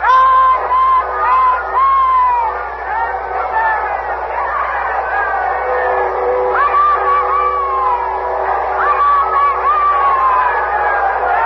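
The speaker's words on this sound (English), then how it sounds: "We'll open our microphones outside now and let you hear the crowd." A large outdoor crowd before Windsor Castle in London shouts and cheers in a steady dense roar, with rising whoops and calls standing out throughout.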